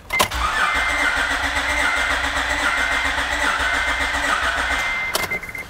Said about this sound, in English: And it's okay that it's cranking a long time like this.